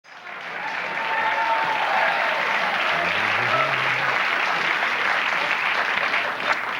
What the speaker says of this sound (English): this woman is applauding wildly